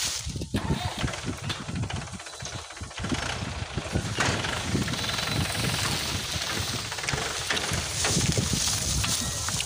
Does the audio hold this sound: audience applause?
no